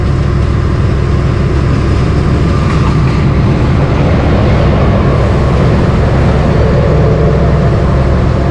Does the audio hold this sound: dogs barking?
no